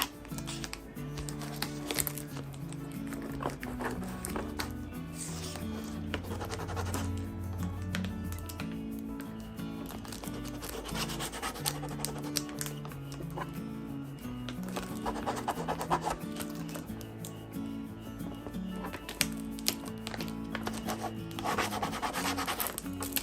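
A rub-on transfer is burnished onto a thrift store item being turned into Halloween decor, making soft, repeated scratchy rubbing strokes close by over a low background hum, with no talk.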